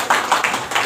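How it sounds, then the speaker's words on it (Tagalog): A church congregation clapping: a few sharp, close handclaps in a loose, quick rhythm over less than a second. "palakpakan natin ang ating Diyos na buhay"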